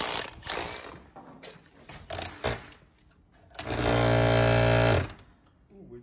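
A power tool drives a helical wall tie into masonry in one loud, continuous burst of whirring and grinding lasting over a second, close by, after scattered knocks and handling noise.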